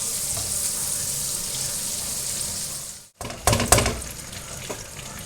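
Butter and whole spices, black and green cardamom with cinnamon, hit hot oil in a kadai with a sudden crackling sizzle after a steady background hiss, spattering loudly and then settling into continuous frying.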